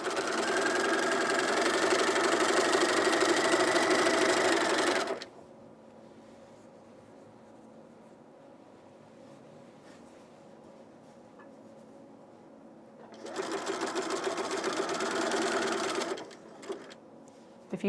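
Sewing machine stitching a Songbird top, running in two loud bursts of steady stitching separated by a long quiet pause.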